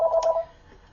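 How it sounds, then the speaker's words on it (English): A telephone tone from a spam call sounds as a short beeping pulse burst, a few rapid repeated tones lasting under half a second, then fading into quiet room noise. "it just keeps ringing and yapping"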